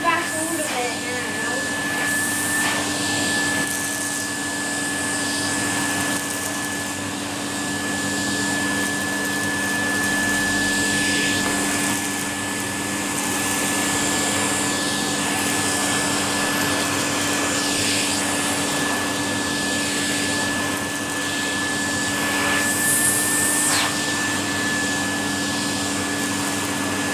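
A vacuum cleaner runs continuously on carpet, a loud, steady whining drone close by for the whole stretch, with faint voices now and then beneath it.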